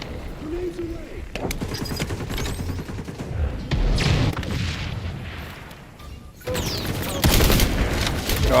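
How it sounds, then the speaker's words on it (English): Grenade blasts and rapid gunfire erupt in the XDefiant shooter game, loud and dense across the whole stretch, with bursts of automatic fire and booming explosions layered over one another. "Grenades away."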